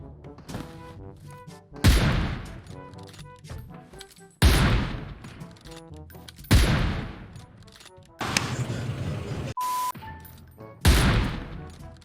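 Gunfire in the mobile battle royale game PUBG Mobile, with several loud booming shots and short volleys separated by pauses, close and punchy, and one brief tone in between.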